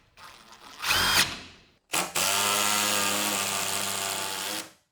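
Power driver spinning a 5-inch screw into a wall stud in a garage, a short whir, a pause, then a longer steady motor drone that labors under load before stopping.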